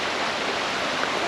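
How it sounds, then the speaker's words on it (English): Creek water flowing at a swimming area in Finch Hatton Gorge, a steady broad rushing wash of moving water, close and continuous, with no talking. "this is the swimming part of the river, creek, river"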